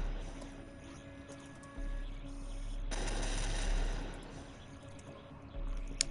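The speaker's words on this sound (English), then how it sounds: "I can control the turrets on this ship." Airship turrets firing in Batman: Arkham Knight make bursts of rapid automatic gunfire over a low ambient rumble. A denser volley comes midway, then shorter bursts follow.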